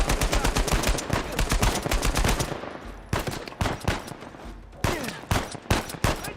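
A firefight in Uncharted 4 with a sniper firing on the group, loud rapid gunshots in fast bursts at first, then spaced single heavy cracks with echoing tails, nearby and without talk.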